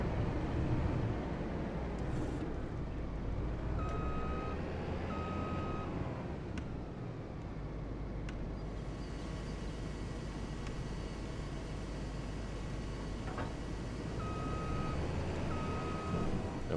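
Intermittent reversing beeps from a farm vehicle in Farming Simulator 25 repeat in short pairs over a steady, loud engine drone, with no talking.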